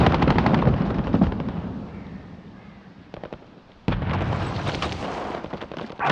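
A fragmentation grenade and gunfire in a tactical shooter video game: a dense burst of shots, a fading rumble, a couple of brief pops, then a sharp loud blast with crackling tail, heard alone.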